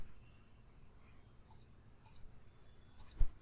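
A few sparse computer mouse clicks, faint and close, spread over a quiet background with a sharper click near the end.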